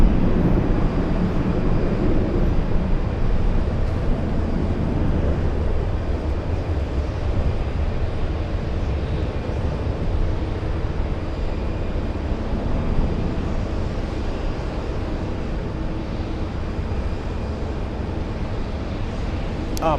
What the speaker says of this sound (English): We have the Japanese Airlines 787 taxiing to the runway for takeoff.